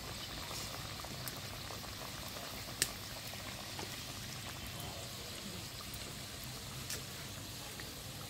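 Khaja pastry frying in hot oil over a low flame, a dense steady bubbling sizzle throughout with a few faint clicks and taps on top.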